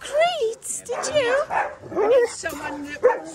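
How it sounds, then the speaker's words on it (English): A dog barks and whimpers in repeated excited bursts, close by and fairly loud, with people talking over it indoors. "In himself, he's a lovely dog."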